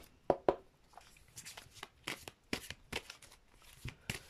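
Tarot cards are shuffled nearby in quick bursts of riffling and slaps, with soft gaps between strokes.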